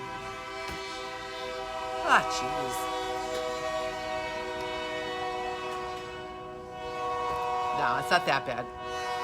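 A passing train sounds a long, sustained horn outdoors, loud and droning throughout, while a person speaks briefly over it and faint higher whistle-like tones rise near the end.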